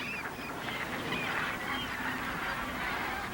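A large flock of migratory waterbirds, geese and ducks, resting together on open water in a winter field, keeps up a continuous chorus of honks and calls that overlap at a moderate distance.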